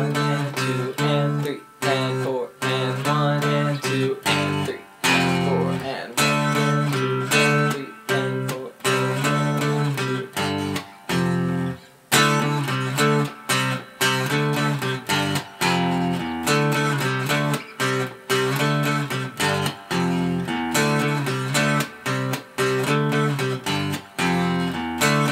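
Guitar plays the verse of a song, a steady rhythmic riff of chords and single notes with short choppy gaps, close and continuous for the whole stretch with no talking.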